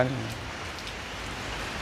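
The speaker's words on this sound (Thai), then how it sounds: "ถ้าฝนตกลงมาอย่างนี้" Steady rain falling in Thailand, a dense, even hiss of drops that holds at a constant moderate level from start to finish, with no distinct thunder or gusts.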